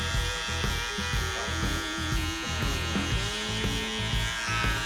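Electric shaver trimming hair during a mid drop fade haircut, a loud, steady close-up buzz running throughout with small shifts in pitch and texture as the blade moves across the head.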